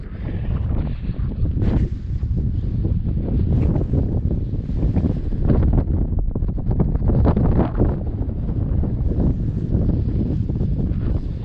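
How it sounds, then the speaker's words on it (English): Strong wind buffets the microphone high on a mountain hiking trail on Mount Yale near Buena Vista, Colorado, a loud, continuous roar that gusts and swells without pause, with no talk over it. "it is definitely windy up here and still pretty cold"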